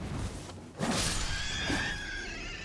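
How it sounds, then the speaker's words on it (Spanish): A horse whinnies in the video game Elden Ring, a loud neigh rising near the one-second mark over steady game ambience, with no talking. "Escuché un caballo."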